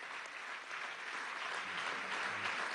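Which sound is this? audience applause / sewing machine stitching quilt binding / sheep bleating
audience applause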